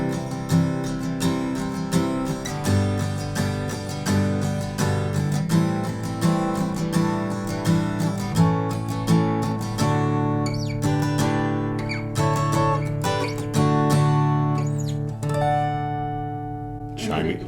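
Acoustic guitar plays the outro of a song, busy strummed chords and picked notes ringing steadily and close, with a final chime-like ending that lets the last chord sustain and fade.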